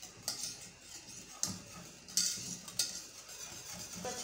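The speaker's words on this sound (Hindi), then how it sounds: "अब मैं इसको ऐड इसमें मिक्स करने लगी हूँ" A spoon stirs a few drops of vanilla essence into a trifle dessert in a bowl, giving four light, spaced clinks against the dish over a quiet background.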